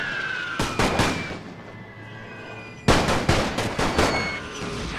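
Machine gun firing in The Great War 6.0 World War I strategy game: two loud clusters of rapid shots, each a short rattling burst of several cracks, separated by a quieter gap over a low battlefield rumble.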